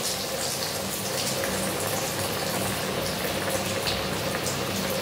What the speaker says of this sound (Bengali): তেল গরম আছে, এবারে আমি একটা ফিশ ফ্রাই দিয়ে দেবো।